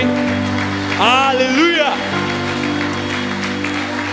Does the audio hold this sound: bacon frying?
no